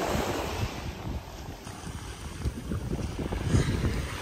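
Waves washing onto a beach with steady wind buffeting the microphone, a continuous low rumble of surf and gusts with no voices.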